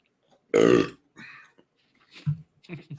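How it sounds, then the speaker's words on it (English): A single loud burp erupts from a man during a casual football podcast chat, followed by quieter throaty grunts and murmured sounds. "Burp."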